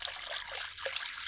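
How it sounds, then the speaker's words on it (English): Water poured into a salmon brine mixture, a steady broadband trickle and splash running unbroken throughout, close and moderately loud with no talk. "I'm gonna add some water,"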